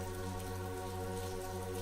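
Steady rain falling in a park, a dense, even patter of drops on surfaces with a constant low hum beneath, no voices.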